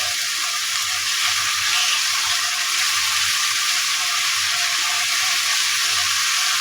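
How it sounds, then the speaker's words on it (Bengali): Spice paste sautéing with tomato sauce for a prawn pulao, a loud continuous hiss and crackle from the pan, with faint low stirring bumps underneath and nobody talking. "টমেটো সসটা দিয়েও আমি মশলাটাকে ভালোভাবে কষিয়ে নেব"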